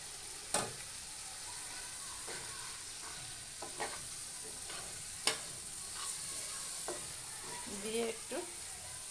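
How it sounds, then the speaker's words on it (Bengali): Fried meat is stirred with spices in a pan, a faint low sizzle underneath scattered clinks and scrapes of the spoon against the pan, quiet and sparse. "দিয়ে একটু নেড়ে চেড়ে মশলা মাখিয়ে নিচ্ছি"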